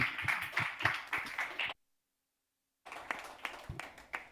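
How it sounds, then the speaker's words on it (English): A small group applauds at an online hangout event, scattered uneven claps close to the microphone, broken by a full second of dead silence before the clapping resumes. "A round of applause as well."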